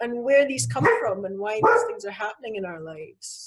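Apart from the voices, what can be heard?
dog barking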